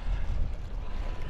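An Arrma Typhon Grom RC boat runs on water, giving a short, steady low rumble and wash of spray with some wind buffeting on the microphone, and no voices heard.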